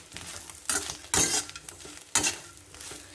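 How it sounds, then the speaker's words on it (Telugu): Sliced bitter gourd frying uncovered in a pan with little oil, soft sizzling broken by three loud scraping stirs and clinks of a utensil against the pan, nearby and without talk. "ఇంక ఇలానే ఫ్రై చేసుకోవచ్చు"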